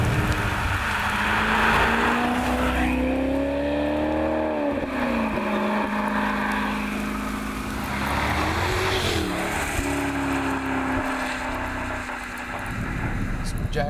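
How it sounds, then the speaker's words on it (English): A 2012 Maserati GranTurismo MC engine and exhaust heard from inside while cornering, the note rising and falling through gear changes and throttle lifts, loud and continuous with a rasping edge. "nice and responsive, and the exhaust sounds spectacular too"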